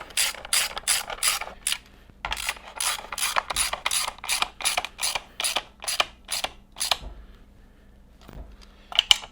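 A hand ratchet tightens the air box bolts on a Harley-Davidson Sportster, its clicks arriving in quick close bursts of strokes with short pauses between them, loud and alone with no voices.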